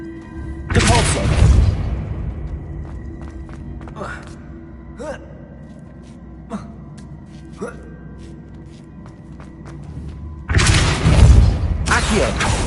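Depulso spell cast in Hogwarts Legacy: two loud, broad whooshing bursts with thuds, one near the start and one near the end, separated by quieter scattered clicks and ticks over a low ambient hum.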